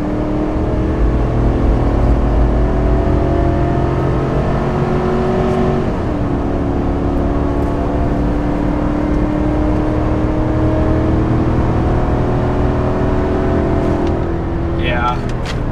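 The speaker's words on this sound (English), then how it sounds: "I'm gonna give you guys some acceleration here." A GMC Sierra 1500 Denali pickup with the 5.3L gas engine pulls a trailer at wide-open throttle, a loud, steady engine roar that climbs in pitch, drops briefly at a gear change, then climbs again.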